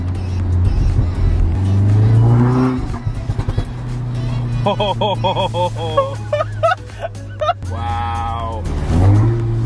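A stage two Mk7 Golf R with an APR downpipe and pops-and-bangs map accelerates hard from inside the cabin, the engine droning loud through gear changes as excited voices talk and exclaim over it.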